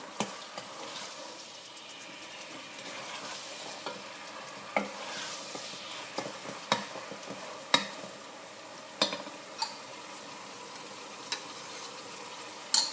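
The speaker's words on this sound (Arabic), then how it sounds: "وتوا باش نحرك طنجرتي بالكدا، نخليها حتى لين اللحم ياخو وجه" Beef browning in a pot for lentil soup, stirred with scattered scrapes and knocks over a steady low sizzle, close and fairly quiet.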